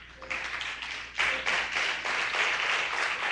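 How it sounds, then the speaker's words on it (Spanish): A church congregation at a Christian worship service breaks into applause, a dense wash of many hands clapping that swells after a second and keeps going loudly to the end. "¿Cuánto le da un aplauso de gratitud al Señor?"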